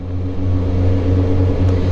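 A Kawasaki ZX4-RR four-cylinder motorcycle engine lugs along smoothly at low revs in a high gear, a close, steady humming drone that barely changes pitch.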